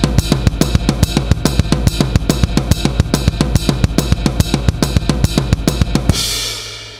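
Triplet-feel blast beat on drums, a loud and steady run of fast kick, snare and cymbal hits for about six seconds, ending in a ringing crash that fades.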